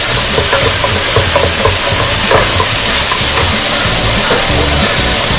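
Ginger garlic paste sizzles and spatters loudly in a hot pan for mushroom masala gravy, a steady close hiss with occasional stirring scrapes throughout.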